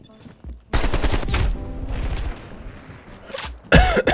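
Rapid gunfire from an AK-47 in the video game Black Ops Cold War, loud bursts that open and close the moment, mixed with a player's voice talking over the shots.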